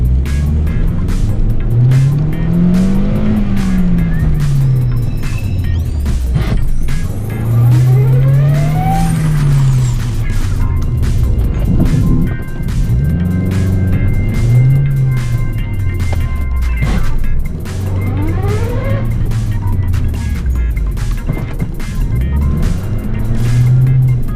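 A Toyota car at a stormy motorsport auto test revs hard through repeated rising and falling engine sweeps, each gear change breaking the loud, close roar.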